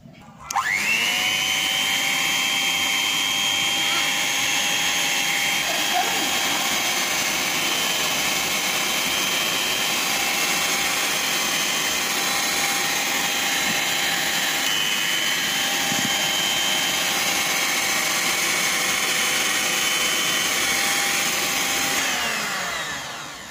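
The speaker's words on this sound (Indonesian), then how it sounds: "lalu bahan-bahan ini kita mixer sebentar" An electric mixer whirs continuously for over twenty seconds while blending ingredients for a market snack batter, a loud steady motor drone with a high whine, starting abruptly and holding an even pitch until it winds down at the end.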